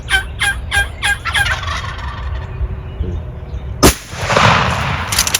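Several loud wild turkey gobbles rattle out in a quick burst during a North Country spring hunt, followed moments later by a sharp, close gunshot and its fading echo.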